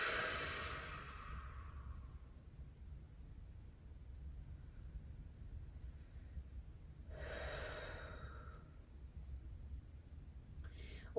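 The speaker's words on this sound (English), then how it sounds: "Really big inhales in, and a really big exhales out." Deep yoga breathing with big inhales and exhales, soft airy breaths near the microphone, a strong breath at the start and another clear one later, over a quiet hiss.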